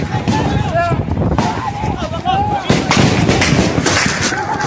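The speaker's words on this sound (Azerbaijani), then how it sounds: "hərbi parad zamanı atışma baş verib." Gunfire during a military parade in Ahvaz, Iran, heard as repeated sharp bangs over a loud, chaotic crowd with people shouting throughout.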